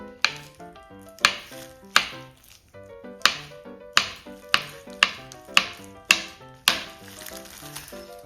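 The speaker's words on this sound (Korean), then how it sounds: "오징어 전어 칼집을 내줍니다" A knife scores squid and gizzard shad on a cutting board, about a dozen sharp, close taps in an irregular rhythm over a background of faint music, with no talking.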